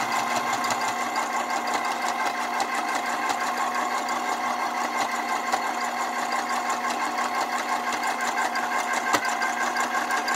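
A sewing machine runs steadily while stitching a pearl-covered bag, its close, even mechanical whir and rapid needle chatter continuing without pause.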